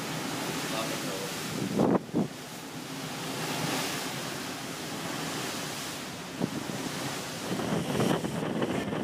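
Ocean surf at sunset rolls in as a constant broad wash, with gusts of wind buffeting the microphone and a few louder bumps, close and fairly loud.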